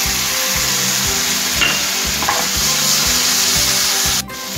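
Zucchini browning in a pan after a mix of balsamic vinegar and honey is poured in, giving a steady, loud broadband sizzle with soft stirring scrapes throughout.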